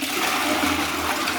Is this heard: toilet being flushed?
yes